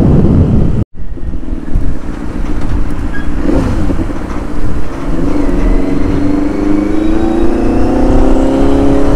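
Benelli 600i motorcycle engine while riding, a loud continuous drone whose pitch climbs steadily as the bike accelerates, heavily mixed with wind buffeting on the microphone and no talk.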